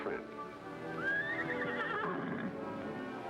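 A horse whinnies loudly and close, a rising, wavering neigh lasting a second or so, with faint hoof clip-clop and background noise around it.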